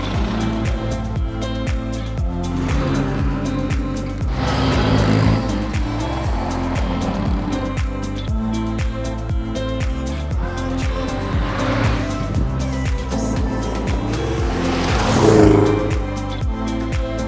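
Historic rally car driven hard on gravel roads, its engine droning steadily and close throughout, with two louder swells of sliding and spraying grit along the way.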